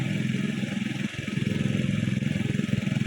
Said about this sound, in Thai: ติดเครื่องก็ติดไฟค่ะ